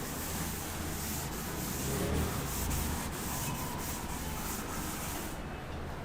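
Steady rubbing of a board eraser across a classroom blackboard, a continuous close scrubbing hiss with light rhythmic strokes, no talking.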